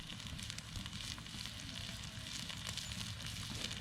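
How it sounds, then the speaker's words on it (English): Buffalo steak and potatoes frying in a cast iron skillet over a campfire, giving a steady, close, continuous sizzle with faint crackle throughout and no talking. "Buffalo and fried potatoes over the fire in the cast iron skillet."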